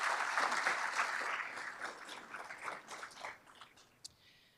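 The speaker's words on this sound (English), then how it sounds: "Let's give them a round of applause." An audience at a city State of the City evening event applauds steadily, then the clapping thins and fades into scattered claps before stopping, heard at a moderate distance.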